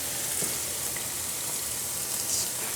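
An egg and cheese fry in a pan for a ham, egg and cheese sandwich, a steady close crackling sizzle that hisses evenly throughout with a couple of small pops.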